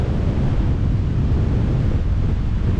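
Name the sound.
cold wind blowing into the microphone in Valletta, Malta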